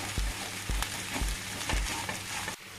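Eggs and vegetables for a Spanish omelette are stirred in a hot pan until dry: a steady sizzle with four evenly spaced scraping strokes of the spatula, close and alone.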